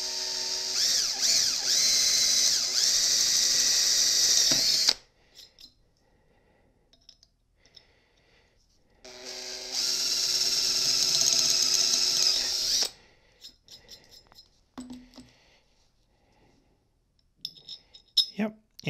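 A power drill bores larger holes into a 13 dB RF attenuator in two long, loud whining bursts separated by quiet stretches of small handling clicks and taps.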